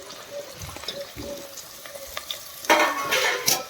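Mango pieces tipped into hot oil with garlic and chillies for a Gujarati raw mango curry, starting as soft stirring and scraping, then a sudden loud burst of sizzling and frying that holds steady near the pan.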